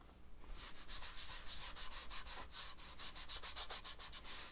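Grain filler being rubbed by hand into a spalted maple guitar body, a close rhythmic scrubbing with quick back-and-forth strokes in a steady pulse, alone without talk.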